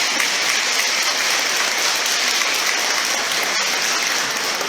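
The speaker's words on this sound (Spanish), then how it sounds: "Lo recibimos con un muy fuerte aplauso." An audience at a public talk in Mexico welcomes a researcher with a dense, steady wall of clapping that stays loud and uniform throughout, with no speech over it.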